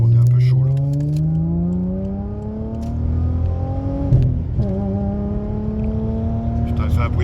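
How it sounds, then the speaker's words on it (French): A Volkswagen Golf 4 V6 24-valve engine, warmed up, revs hard, its pitch sweeping upward in a long smooth rise, dipping briefly, then climbing again, loud and close throughout. "elle fait un bruit de F1 le bagnole"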